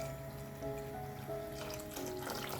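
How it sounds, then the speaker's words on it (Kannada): Water pours steadily into a dish, a soft continuous trickle and splash, close by with no talking. "ಆ ನೀರನ್ನು ಕೂಡ ಸೇರಿಸ್ಕೋಬೇಕು"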